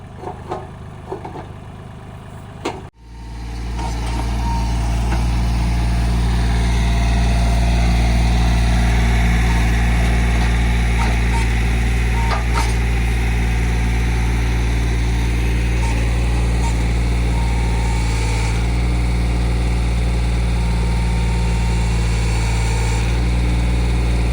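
A heavy tractor engine starts up after a few quiet seconds and then runs loudly and steadily, a deep rumbling drone close by that continues throughout.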